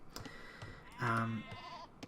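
Sheep bleat in a real-time strategy game, with a loud drawn-out bleat in the middle and fainter game sounds and short clicks around it.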